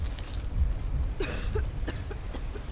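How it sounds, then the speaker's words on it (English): Companion character coughing in the video game Skyrim, a few short raspy coughs spaced over a low game ambience, moderately close with no speech. "there's Lydia coughing again."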